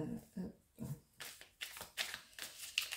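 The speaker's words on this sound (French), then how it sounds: "Je mélange un peu. Il y a beaucoup de cartes." A deck of tarot cards being shuffled by hand, with soft, close riffling and slapping bursts repeated in an uneven rhythm over about three seconds, and no talking.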